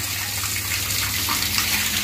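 Water gushing steadily from the outlet of a Sarvo submersible pump, a continuous broadband rushing splash that holds an even level throughout, close to the listener with no talk over it.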